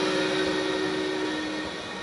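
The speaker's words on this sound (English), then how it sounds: "There's that train whistle again" A train whistle sounds at a Pittsburgh Steelers at Buffalo Bills NFL game, a steady sustained tone over loud crowd noise in the stadium, fading after about a second.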